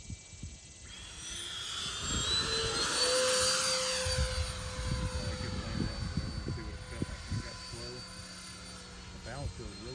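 Freewing A-10 Thunderbolt II RC jet with twin 80mm ducted fans flying a lap with flaps in, a steady whine that rises as it passes close, then fades, with a voice talking over it.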